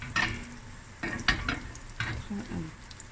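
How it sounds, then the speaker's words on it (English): Fine vermicelli noodles browning in a pan over medium heat for a Cape Malay dish, with soft sizzling and several scraping stirs at close range, no talk. "now I'm just going to allow the fine noodles to brown"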